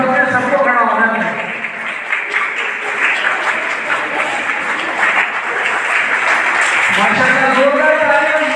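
Talent show audience rises for a standing ovation, sustained loud applause and cheering throughout, with a voice speaking over the crowd at the beginning and end.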